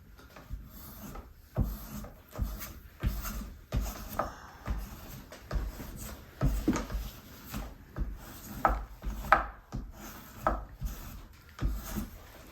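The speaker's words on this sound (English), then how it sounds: "set your spoke shave, and I'm getting nice shavings" Rhythmic rasping strokes of a spokeshave shaving hickory bark for seat weaving, close and repeated about once a second, each pass a short scraping burst.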